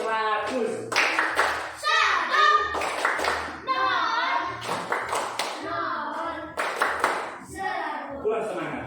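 A classroom of children performing a rhythmic clapping chant, sharp hand claps in quick patterned bursts mixed with their chanting voices throughout, close and lively.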